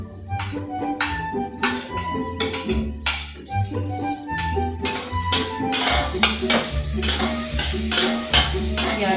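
Mushrooms fry and are stirred in a pan for creamy carbonara, with repeated spatula scrapes and clatter over a steady sizzle, close by, with background music playing throughout.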